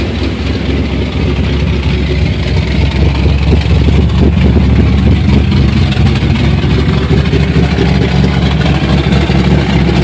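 A 1983 Chevrolet Camaro with new cylinder heads idles steadily up close with a deep, loud rumble. A slight exhaust leak adds some chuff to the low drone, which holds constant for the whole stretch.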